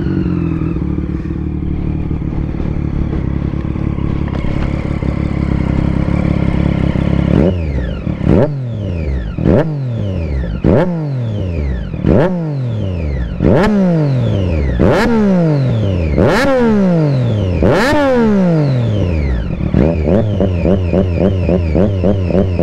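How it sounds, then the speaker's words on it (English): A Triumph Daytona 675R motorcycle engine starts and settles into a steady idle, then gets a series of sharp revs in quick succession, each rising and dropping back. It is loud and close, with no talk. "So let's just start it up, see what it sounds like."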